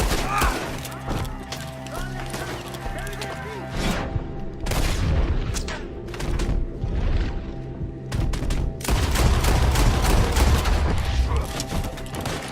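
Gunfight in Red Dead Redemption 2 with repeated rifle and pistol shots, booms and clatter, loud and continuous, mixed with game music and shouting voices.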